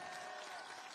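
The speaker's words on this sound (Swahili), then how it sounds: "mpigeni makofi jameni" Brief burst of crowd applause at a political rally in Kenya, dense steady clapping throughout a single second, fairly distant and faint.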